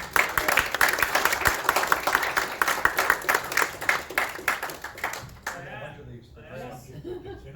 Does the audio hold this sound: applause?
yes